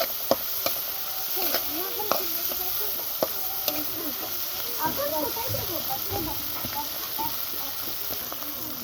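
Garlic paste fries in hot oil for a prawn bhuna, with a continuous close sizzle broken by sharp ticks and scrapes from stirring. A voice talks over the cooking for much of the time.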